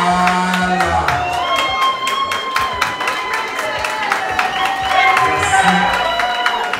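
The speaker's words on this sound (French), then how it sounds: "On applaudit très très fort pour papa Léo Moka." A loud crowd claps and cheers at a family celebration, with dense continuous applause and scattered whoops and shouts throughout, while a voice carries on over the noise.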